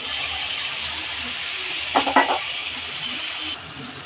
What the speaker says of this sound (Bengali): ঢুলিয়ে একটু মাছগুলোকে কষিয়ে নিচ্ছি